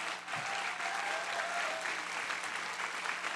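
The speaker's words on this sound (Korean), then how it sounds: "환영의 박수를 드리겠습니다" A church congregation applauds in welcome during a Sunday worship service, a steady, dense wash of many hands clapping that fills the room evenly from start to finish.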